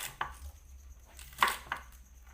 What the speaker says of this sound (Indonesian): Kubisnya diiris kotak aja biar nggak sama dengan bihunnya.